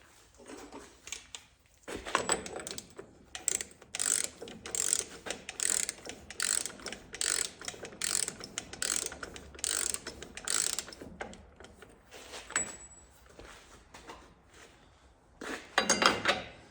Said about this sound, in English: we'll reinstall our axle nut